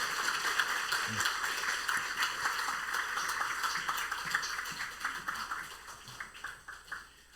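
A church congregation at Sunday worship claps in warm welcome, a soft, fairly distant patter of many hands that gradually thins into scattered individual claps toward the end.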